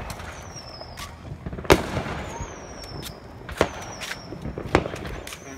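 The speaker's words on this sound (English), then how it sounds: "Here's our selection fireworks." Fireworks go off outdoors: a few sharp cracks and pops spaced a second or two apart, some followed by whistling streaks, over a steady low background murmur.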